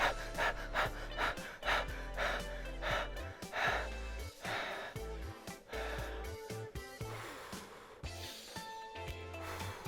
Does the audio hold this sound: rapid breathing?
yes